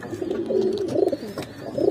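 Domestic pigeons at a farm cooing steadily, a soft low throaty murmur running continuously and fairly close, with no talking.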